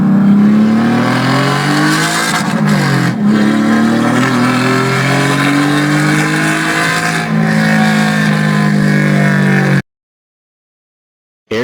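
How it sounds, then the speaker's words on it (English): A Porsche sports car engine revs loudly and climbs through its gears in a rising, sustained roar, close and strong, before cutting to silence near the end. "Porsche."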